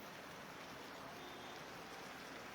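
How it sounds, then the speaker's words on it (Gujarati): A dense, even hiss of heavy rain pours without pause on the streets of Vadodara's Gotri area, soft and steady throughout. "ગોત્રી વિસ્તારમાં ધમાકેદાર વરસાદ વરસી રહ્યા છે"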